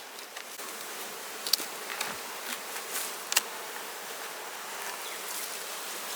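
Honey bees buzzing around honey supers as they are pulled, a soft continuous hum with individual bees zipping close past now and then, heard alone outdoors.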